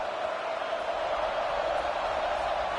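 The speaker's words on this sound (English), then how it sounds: "this crowd is buzzing after that last score" A stadium crowd in the College Football video game, with Alabama on the field, keeps up a steady, dense buzzing roar that holds at an even level without peaks for a few seconds.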